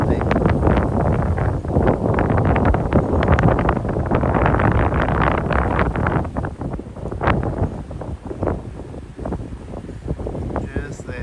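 Gusty wind buffets the microphone on a Tokyo riverside street beneath the Asahi building, a loud roaring rumble that swells and eases with brief lulls, with someone speaking now and then.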